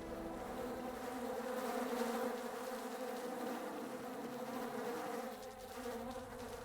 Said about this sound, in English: the mosquitoes will be out